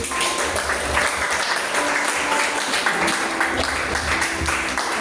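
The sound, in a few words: applause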